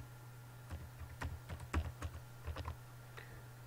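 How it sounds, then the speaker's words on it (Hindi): A password is typed on a computer keyboard, giving a run of quiet, irregular key clicks over a low steady hum, with no speech. "यहां पे आपने पासवर्ड लिख दिया"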